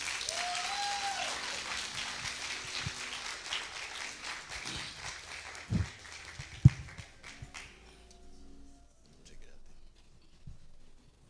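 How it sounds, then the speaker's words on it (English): An audience gives a warm round of applause for a performer portraying Dr. Martin Luther King Jr., a soft, distant patter of clapping with a few louder knocks, thinning out to quiet near the end. "please help me give him a warm round of applause"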